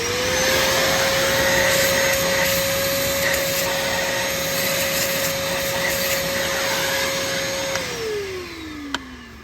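A shop vacuum cleaner runs steadily while clearing debris during a thread repair on a Chevy Cruze engine, a loud constant whine that holds for several seconds and then winds down as it is switched off.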